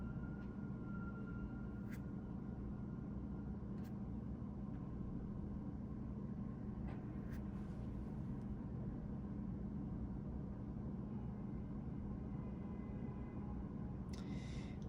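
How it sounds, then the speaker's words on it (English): City street traffic after snow in Manhattan near Central Park, a constant low rumble of passing vehicles with distant faint horn or siren-like tones and occasional clicks, heard from a distance without talk. "slowly the streets are sort of being cleaned, and traffic is starting to pick up again"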